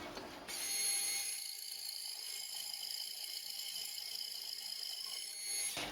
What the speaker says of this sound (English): I'm getting the hole saw back in there and putting a nick down in here